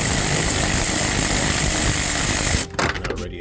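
Power tool, likely an impact gun with a deep socket, removing 10mm bumper bolts on a C5 Audi Allroad: a loud continuous buzzing whir that cuts off sharply near the end, followed by brief clunks.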